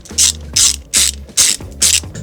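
A ratchet socket wrench working a hidden bolt on a Vespa scooter from behind, five sharp rhythmic clicking bursts close up with a faint metallic hum between strokes, no talk.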